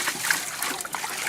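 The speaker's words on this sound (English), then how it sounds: "you're gonna gently run some water over it" Creek water is gently poured over a gold-prospecting sluice box into a bucket, a soft trickling splash with brief spatters, quiet and close.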